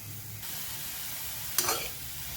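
Coriander leaves crisping in hot oil in a kadai, a soft steady sizzle with a brief louder burst of hissing and stirring partway through.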